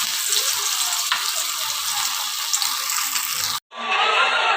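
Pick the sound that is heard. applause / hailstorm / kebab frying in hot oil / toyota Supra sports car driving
kebab frying in hot oil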